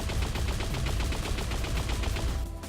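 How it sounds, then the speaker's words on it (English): Rapid, evenly spaced burst of the Unreal Tournament link gun's primary fire, a steady loud volley of repeated energy shots lasting a couple of seconds before cutting off, with no talking. "after listening to audio feedback on the link gun, we've revisited the primary sounds for the time being."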